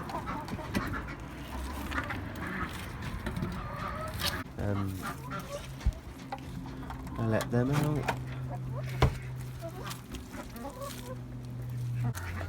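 Backyard homestead chickens in muddy pens cluck and squawk close by as they are let out in the morning, a steady flock chatter with a sustained honk-like call near the end and someone talking over it.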